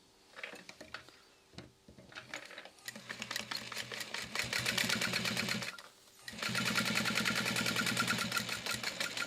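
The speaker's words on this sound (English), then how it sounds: "we're going to sew that into place using a 1/4 inch seam allowance" A sewing machine stitching a quarter-inch seam on a fabric tag-along project, starting in short hesitant bursts and then running in long steady whirring stretches, close and clear with no talking.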